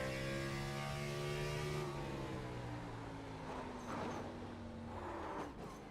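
Onboard engine of a race car in a racing video game as it brakes very late into a corner, its loud steady drone and whine sliding down in pitch while the revs fall, with no talk over it.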